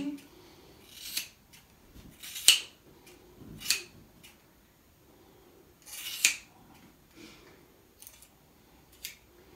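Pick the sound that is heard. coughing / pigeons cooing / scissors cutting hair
scissors cutting hair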